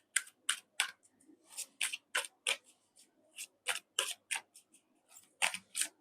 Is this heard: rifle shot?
no